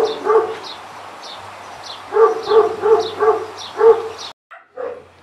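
A dog sprayed with water gives a run of sharp, rhythmic yips and whimpering barks, close and fairly loud, then a few quieter whines after a brief gap.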